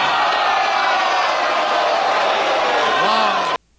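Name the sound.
wrestling crowd reacting with shock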